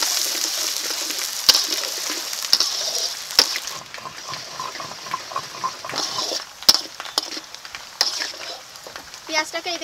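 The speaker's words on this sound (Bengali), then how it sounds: "পেঁয়াজটা এখন ভালো করে ভেজে নেব।" Onions fry in hot oil with bay leaves, whole garam masala and cumin, a steady loud sizzle with scattered sharp stirring clatters from a utensil against the pan throughout.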